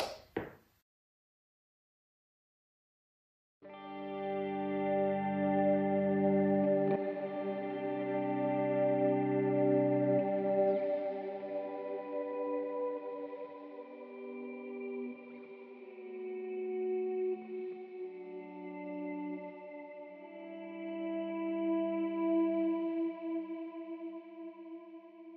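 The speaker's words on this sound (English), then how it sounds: "So I also have a swells reverb as well." An electric guitar chord swells in slowly through a Strymon reverb pedal and sustains with lush, shimmering reverb, notes blooming and overlapping as they ring out and slowly fade.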